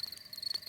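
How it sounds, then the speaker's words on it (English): Crickets chirp at night in a cartoon, a rapid, steady pulsing trill at high pitch, fairly faint and alone. "That is the sound of crickets chirping."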